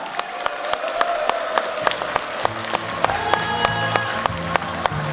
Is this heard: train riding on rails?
no